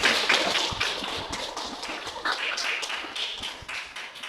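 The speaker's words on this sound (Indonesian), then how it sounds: "Tepuk tangan untuk kita." A class of students claps hands in applause indoors: a loose run of sharp, fairly faint claps of uneven rhythm, lasting a few seconds with no talking.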